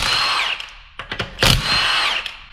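Short whirring bursts of an impact or power tool removing wheels from a Subaru during a teardown, several rapid revs and stops in quick succession, close and loud.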